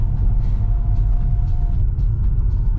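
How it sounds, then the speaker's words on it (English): A BMW B58 engine in a stage 2 BMW 140i rumbles from inside the cabin as it accelerates, a steady low drone with some road noise. "let's see how this B58 accelerates on the inside"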